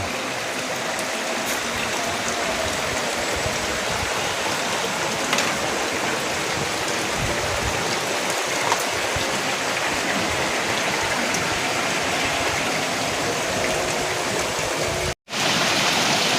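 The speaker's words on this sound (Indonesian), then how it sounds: "suasana tahun baru, hujan." Steady, dense rain falls at a New Year's Eve chicken grill at a hut, a constant broadband hiss with scattered drips, loud and unbroken, with no talking.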